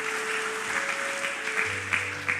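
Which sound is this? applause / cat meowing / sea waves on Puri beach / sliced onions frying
applause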